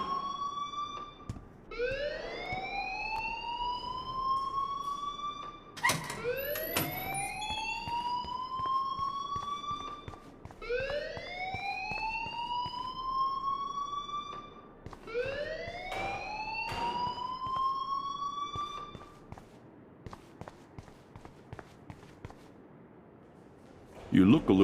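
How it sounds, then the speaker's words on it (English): A rising-and-falling electronic alarm blares repeatedly in the Life is Strange video game, four sweeping wails in a steady cycle over faint background noise, with a short pause near the end. "please turn off that alarm since that's your job"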